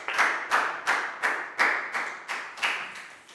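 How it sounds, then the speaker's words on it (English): Scattered claps from a primary school class during a lesson, about eight distinct, evenly spaced hand claps close by, with no talking over them. "High five and a big round of applause for Dan, please, guys."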